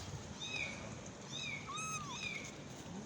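A mother cat meows several times from a balcony, a few drawn-out, rising and falling calls heard at a moderate distance over steady background hum.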